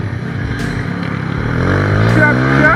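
A motorcycle engine revs up close by on a Jamaican street ride, its throaty drone climbing steadily in pitch and growing louder over a few seconds.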